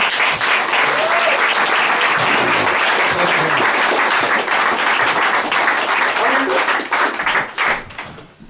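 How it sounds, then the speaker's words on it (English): A concert crowd applauds the band at a show, loud, thick clapping with some crowd noise that holds steady for about seven seconds before tapering off, with voices faintly mixed in. "So a round of applause for them as well"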